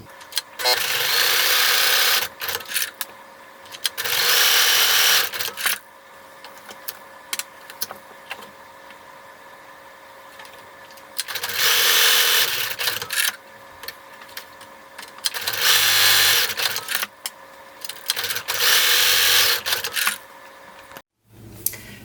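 A sewing machine runs decorative stitching across fabric in several loud steady whirring bursts of a few seconds each, with quieter clicks and handling sounds in between.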